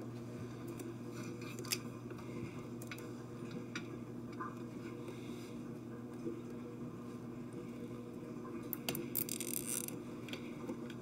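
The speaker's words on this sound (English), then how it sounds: "we'll go ahead and put a new zip tie around the harness" A new zip tie is ratcheted tight around the wire harness and drain tube during a GE refrigerator condenser fan motor repair, giving scattered faint clicks and ticks over a steady background hum, with no talking.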